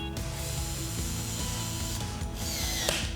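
A torque wrench ratchets rapidly and continuously at close range, clicking in a steady rhythm while tightening bolts on a corrosion-resistant 2-inch pipe coupling to 80 inch-pounds, with no talk.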